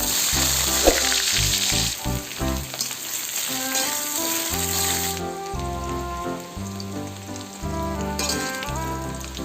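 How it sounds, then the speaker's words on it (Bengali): Potatoes fry in hot oil for a Bengali pea and potato curry, giving a steady sizzle and crackle beneath loud, continuous background music throughout. "মটরশুঁটি আলুর দম বানানোর জন্য আলুগুলো ভেজে নেব।"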